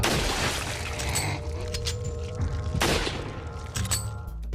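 Gunfire in Resident Evil 4 rings out against Regenerators, with loud booming shots and echoing bursts over a dark game soundscape.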